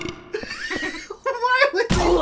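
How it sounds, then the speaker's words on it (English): Monsters in the survival-horror game Silent Hill 4: The Room burp when struck, giving short guttural belching bursts with thuds and a harsh hit noise near the end, mixed with chatter and laughter from players. "They burp when you hit them!"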